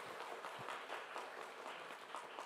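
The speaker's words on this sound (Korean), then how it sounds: "우리 두 분 우리 환영의 박수로 이렇게 한번 먼저" Church congregation applauding in welcome of two new members, a quiet, distant patter of clapping across the hall throughout.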